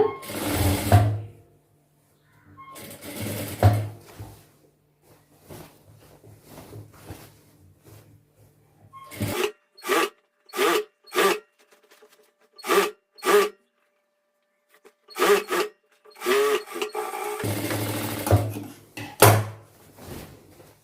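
A sewing machine stitches a pant in a tailoring class, running in bursts: a few longer runs, then a series of short rapid stitching spurts separated by pauses, close and clear.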